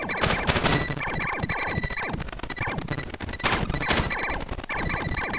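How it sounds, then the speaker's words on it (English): Rapid gunshots in the Picotage video game as descending parachutes are shot down, a loud, dense, continuous rattle of arcade-style shots layered over chiming game effects and bursts of noise. "What you want to do is shoot the parachute, not the person on the ground, of course."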